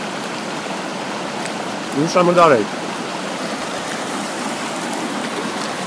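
A mountain stream flows with a constant rushing hiss, close and even, while a voice briefly speaks over it midway.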